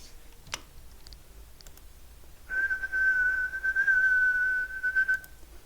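A single high, steady whistled tone of about 1 kHz held for about three seconds after a few faint clicks, clear and close with a quiet background.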